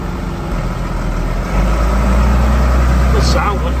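A truck with a six-speed splitter gearbox idles loudly and close by, a steady low rumble that swells slightly partway through, with a brief voice near the end.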